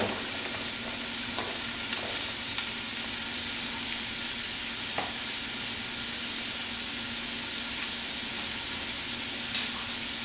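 Chopped onion and celery sizzle steadily in a hot pan, with a spoon occasionally scraping and stirring through the frying; continuous, close, with no talking.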